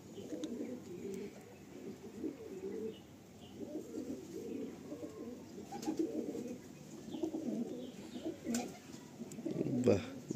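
Pigeons in a breeder's loft coo repeatedly in low, rolling phrases throughout, close and steady, with a voice speaking briefly now and then.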